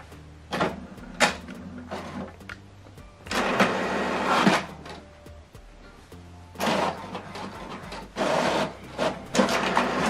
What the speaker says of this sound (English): This is to show you that this printer is working